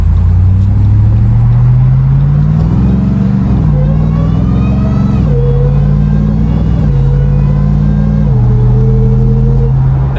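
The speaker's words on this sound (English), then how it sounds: "you can get a good example of what this truck sounds like" A RAM TRX pickup truck engine with a performance intake drones loud and close throughout, its low rumble rising and stepping through gear shifts with a faint whine on top.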